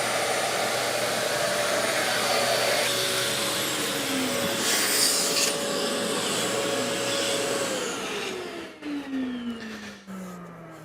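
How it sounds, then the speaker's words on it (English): Shaper Origin handheld CNC router spindle cutting a tambour door panel, a loud steady high-pitched whine with continuous cutting noise that holds throughout, then winds down and fades near the end. "That's Origin keeping that spindle right on track as Jake moves around this cut."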